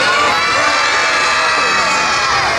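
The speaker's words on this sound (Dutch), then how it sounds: "We gaan even met z'n allen heel hard roepen." A large crowd of children shouts loudly together at an indoor winter event in the Brabanthallen, 's-Hertogenbosch, a dense sustained roar of young voices with no single speaker standing out.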